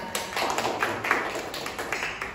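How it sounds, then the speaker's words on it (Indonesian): A small audience claps for Mas Rahim and Mbak Miftah, a brief burst of dense, close hand claps at a steady moderate level with no voices. "tepuk tangan dong buat Mas Rahim dan juga Mbak Miftah"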